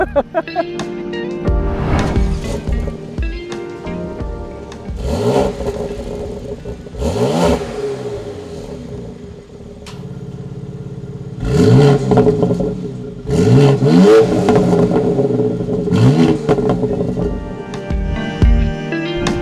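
A 2020 BMW X4 M Competition SUV on the road, its engine revving up in several rising and falling surges over a steady cabin drone, with a voice talking now and then.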